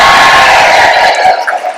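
A loud burst of crowd cheering and whooping at a memorial show for Chris McClure, swelling briefly then trailing off within a couple of seconds.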